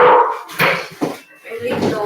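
A pet dog gives a few short, sharp barks and yips indoors, loud and close, broken by brief pauses.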